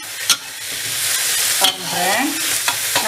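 Food sautéed and stirred in a pan for taucu fish, a continuous sizzle broken by a few scraping knocks of the spatula, close and fairly loud with no voices.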